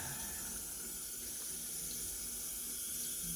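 Tap water runs in a steady, close hiss over hands being rinsed of homemade deer fat soap, with no talking.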